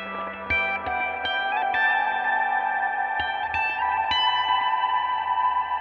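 Electric guitar played through a Tone King Imperial amp plugin preset, clean sustained chords and picked notes ringing out with lush reverb and echo, steady and close, with no talking.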